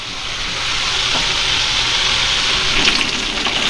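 Fish frying in a pan of oil, a dense steady hiss and crackle heard close and alone throughout.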